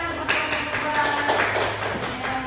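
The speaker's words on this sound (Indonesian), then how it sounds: "Tepuk tangannya." A class applauds with scattered hand claps, a steady, moderately loud patter of many hands sustained throughout with no voices on top.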